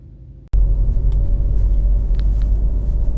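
A 2-litre Volkswagen Golf TDI Match diesel with about 109,657 miles fires up and settles into a steady, low, rumbling idle heard close by with no talk.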